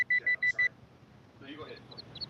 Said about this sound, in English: the way it's beeping back and signaling, probably pretty close to the surface.